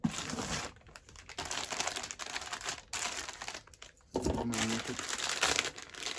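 Crinkly plastic rustling and tearing up close as a large lost-parcel package is torn open by hand, with bursts of crackling packaging noise and short pauses between handling sounds.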